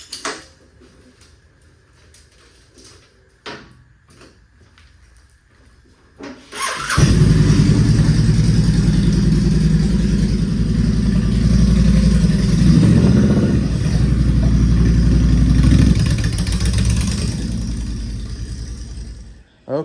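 A Honda VTX 1300 motorcycle engine cranks and catches after several seconds of quiet background noise, then settles into a loud, steady, rumbling idle close by that continues to the end.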